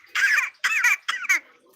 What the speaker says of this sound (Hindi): देख अभी भी खांस रही हो